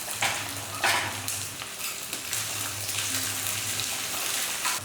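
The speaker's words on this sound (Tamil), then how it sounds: "இப்போ வந்து இதை நல்லா பொறிஞ்சிருச்சு பாருங்கள்" Shallots and curry leaves frying in oil in a pan, a steady close sizzle with occasional stirring scrapes throughout and no talking.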